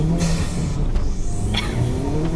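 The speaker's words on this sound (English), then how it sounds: "The balance between the intake sound and the exhaust is like perfect now." A turbocharged car with a new intake and exhaust accelerates hard, a close, loud engine rumble climbing in pitch with sharp whooshing bursts and brief whistling over the top.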